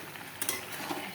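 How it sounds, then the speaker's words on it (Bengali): Mutton curry cooks in a kadai with a low bubbling sizzle and a couple of quick utensil scrapes and clinks, close and brief. "এই যে মাংসটা হচ্ছে কড়াইতে রান্না হইতেছে।"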